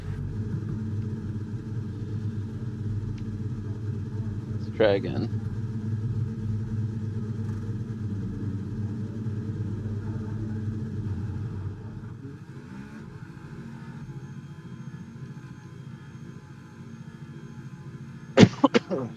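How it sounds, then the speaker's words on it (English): Racing car engines from a Formula racing video game drone steadily at a loud, even level, with brief sharp bursts over the top and a quieter stretch near the end, while someone talks now and then. "Okay, engines fired up."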